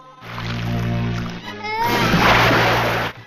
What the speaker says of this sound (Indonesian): Anak malang itu kemudian pergi dan menceburkan diri kembali ke sungai.